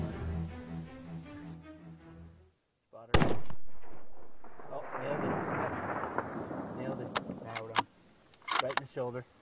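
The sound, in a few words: rifle shots at a tahr while hunting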